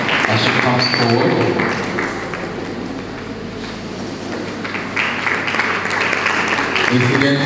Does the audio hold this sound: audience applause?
yes